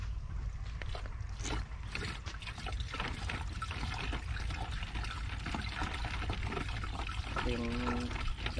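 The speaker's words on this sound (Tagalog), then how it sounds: "Karga muna po tayo mga kabady ng diesel." Diesel fuel pours steadily into a container outdoors, a continuous trickling rush with a brief gurgle near the end, while people talk nearby.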